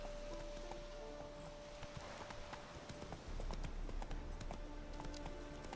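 Roach the horse's hooves clip-clop steadily in The Witcher 3, a continuous trotting patter over rustling ambience with a thin sustained tone, no talking.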